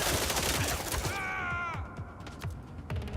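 Gunfire in the video game Mind's Eye, a fast run of close, loud shots that overlap a mechanical whirring tone, then a few sparser shots trailing off.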